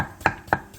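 Two crisp knife chops slice cucumber on a cutting board in quick succession, close and clear against a quiet background.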